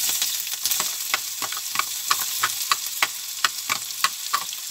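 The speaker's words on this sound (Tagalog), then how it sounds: "At igigisa muna natin yung ating bawang sibuyas." Garlic and onion sautéing in olive oil and butter in a pan, a steady broadband sizzle with regular scraping stir strokes roughly every half second, close and fairly loud, with no talking.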